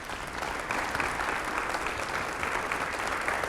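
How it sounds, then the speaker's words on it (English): An audience at a city State of the City address claps steadily as Springfield department heads stand, a dense, even wash of applause filling the whole stretch. "Now don't clap too much."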